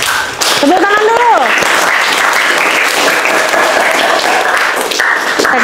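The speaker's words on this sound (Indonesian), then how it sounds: "Tepuk tangan dulu." Classroom of students applauds loudly and steadily for several seconds, with a voice briefly calling out over the clapping near the start.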